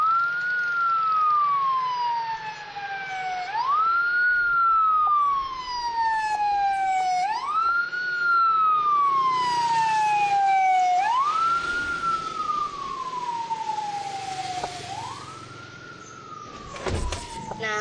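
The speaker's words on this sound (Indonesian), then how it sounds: "suara sirine ambulans tadi merupakan salah satu contoh gelombang bunyi berdasarkan efek Doppler" An ambulance siren wails in repeated rising-and-falling sweeps, loud and steady, with its pitch shifting as it passes, ending in a short burst of clatter.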